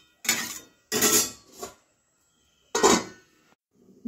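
A metal lid set down on a cooking pot in a home kitchen gives several sharp clinks and clatters in quick bursts, with short pauses between them and a faint scrape at the end.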